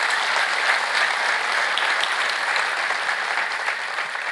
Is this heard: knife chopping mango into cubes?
no